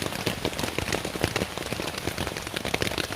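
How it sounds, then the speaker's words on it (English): Heavy rain patters steadily on a tent in the woods, a dense, continuous hiss of close drops with no other sound. "Just listening to the rain."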